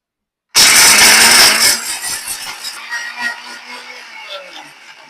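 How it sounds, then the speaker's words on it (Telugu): A mixer grinder grinding fried dried red chillies and tamarind starts abruptly with a loud whirring roar. It then settles into a rattling, churning grind that slowly fades as the chunks break down, close and alone. "ఈ విధంగా మిక్సీ పట్టాలి"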